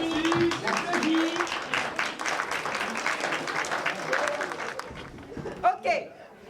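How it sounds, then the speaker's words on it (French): Audience applause at an evening Antillean-themed party, a dense crowd clapping steadily for several seconds, then thinning out as a few voices speak near the end. "J'applaudis."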